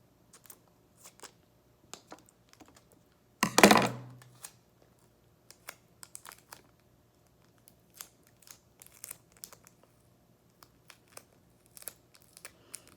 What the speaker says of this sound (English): So I gotta cut off some more tape.